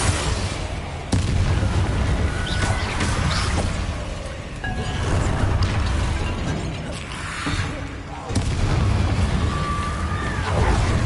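Confringo spell explosions in Hogwarts Legacy, heavy booming blasts repeating at intervals over a loud, rumbling battle din with a few sharp higher cracks scattered through.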